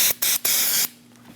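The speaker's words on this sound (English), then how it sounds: "We're going to spray a clean rag with some brake cleaner" Three short, loud bursts of aerosol brake cleaner sprayed onto a rag up close, the last one longest, followed by quiet.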